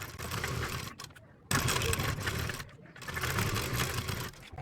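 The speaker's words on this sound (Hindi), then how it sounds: "बुकरम की किनार पर सिलाई लगाते हुए ले आना है इस तरीके से" A sewing machine stitches along the buckram edge of a kurti, running in three loud, steady bursts separated by short pauses, close and alone with no talk.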